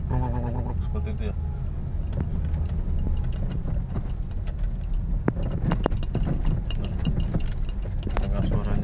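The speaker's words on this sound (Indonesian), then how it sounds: "Kita coba untuk suara kolongnya." Underbody of a 2014 Suzuki Ertiga rattling and clunking over a corrugated, bumpy road, a dense continuous rumble with rapid irregular knocks and ticks throughout, loud and close inside the cabin.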